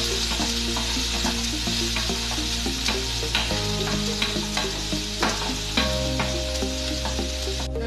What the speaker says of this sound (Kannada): ಈಗ ಇದಕ್ಕೆ ಹಸಿಮೆಣಸು ಮತ್ತೆ ಈರುಳ್ಳಿನ ಹಾಕೊಳ್ತಾ ಇದ್ದೀನಿ. ಹಾಗೆ ಕರಿಬೇವು ಕೂಡ ಹಾಕಿ ಎಲ್ಲ ಹಾಕಿ ಚೆನ್ನಾಗಿ ಮಿಕ್ಸ್ ಮಾಡ್ಕೊಳ್ಳಿ.